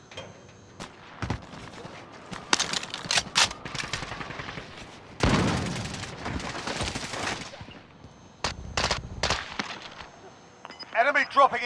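Bursts of light machine gun fire in a video game battle, several rapid volleys of varying length with other gunfire mixed in, fairly close and loud, alongside voiced in-game callouts.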